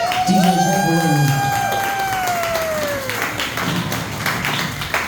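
An audience at a community support event breaks into applause and cheering, a loud and sustained clapping roar with a high whistle-like tone sliding down early on.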